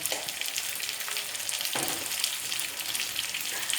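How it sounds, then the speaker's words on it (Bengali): Taro (arbi) pieces frying in ghee over a medium flame with salt, a dense continuous sizzle with a few soft stirring scrapes, close and alone without talk. "এই গাঠি কচুগুলোকে ঘিয়ের সঙ্গে হালকা গোল্ডেন করে ভেজে নিতে হবে।"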